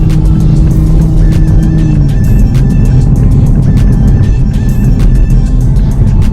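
A 2021 Toyota Supra A91 MK5 makes a U-turn, its engine loud and close with a rising then settling exhaust note, plus repeated sharp ticks and clicks scattered throughout.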